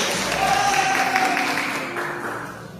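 A church congregation at a mission service applauds the Lord, a soft wash of clapping beneath a sustained voice that fades gradually toward the end.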